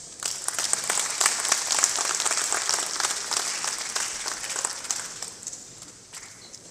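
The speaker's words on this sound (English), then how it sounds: "A warm round of applause for him once again." Audience applause after a speech at an accountants' gathering in Nigeria, a dense sustained burst of clapping from a sizable crowd that builds quickly and gradually fades toward the end.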